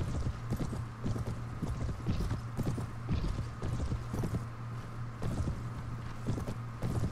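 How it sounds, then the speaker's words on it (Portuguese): Galloping horses in the Sands of Faith video game, a steady clatter of hoofbeats running throughout at moderate loudness over a low in-game hum, with no talking. "Aí, olha os cavalos ali, ó."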